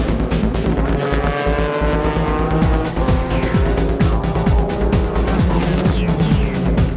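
Car number 1, the Nismo Fair Lady Z (Nissan Xanavi Z), races through its final lap of a JGTC GT race, engine roaring loud and close with repeated rising and falling pitch sweeps as it shifts, alongside other cars.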